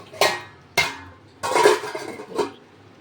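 A metal lid goes onto a cooking pot of fried-onion chicken, with two sharp clanks followed by a longer scraping rattle and one more knock, close and fairly loud.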